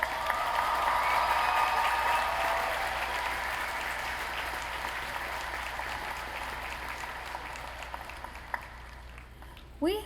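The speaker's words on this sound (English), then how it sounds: "Give her another round of applause," Audience applause at a high school graduation ceremony, a full wash of clapping that starts strong and gradually thins out over ten seconds, with faint speech near the end.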